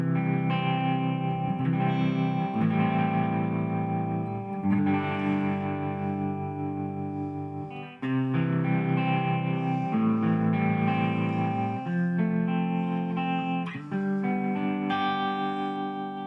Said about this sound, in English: Here it is with a little bit of tremolo.